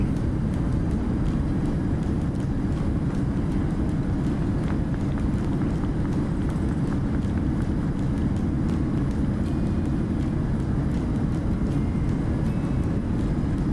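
Boeing 737 thrust reversers in Microsoft Flight Simulator give a loud, steady broadband roar on landing, holding constant and dense for the whole stretch with no talk over it.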